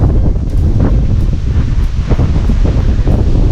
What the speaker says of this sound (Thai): ดูเสียงลมนะครับ ลมแรงมาก